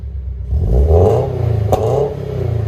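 A 2020 Subaru BRZ 2.0L with a PERRIN cat-back dual exhaust revs up loudly and close, the engine note rising into a raspy climb, snapping briefly at the peak, then settling into a steady pulsing idle.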